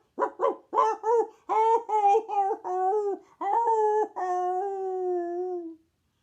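A storyteller's voice imitates a dog crying: a series of short whimpering yelps building into longer, drawn-out wailing howls that trail off, close and alone.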